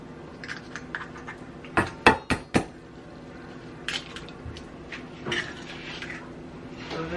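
Two eggs are cracked against a bowl in a home kitchen, making a quick cluster of sharp, close taps and cracks, followed later by a few lighter clinks.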